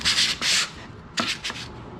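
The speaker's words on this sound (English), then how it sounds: "move your paper around the stick so you got a fresh edge" Sandpaper rubbed by hand over a wooden dough box, a few close scratchy strokes, two long sweeps then shorter quick passes, with no talking.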